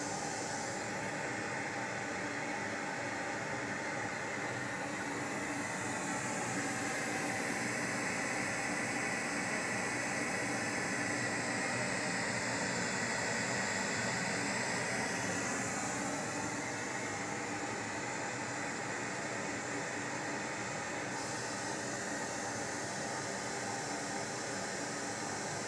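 Pink noise test signal played through a loudspeaker during a frequency response check of mid-bass and tweeter speaker cabinets: a steady, broadband hiss held at constant level for the whole stretch, with no talk over it.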